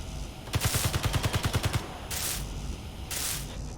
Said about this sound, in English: The constant little bits of gunfire are kind of cool in a weird way.